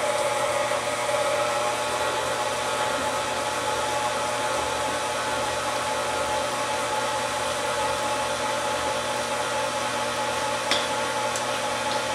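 Electric stand mixer beating eggs into butter cake batter for a chocolate cake, a steady whirring motor hum with a constant whine, running alone throughout.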